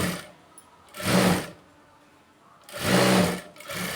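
A sewing machine stitches a blouse in two loud, steady runs of about half a second each, separated by quiet pauses.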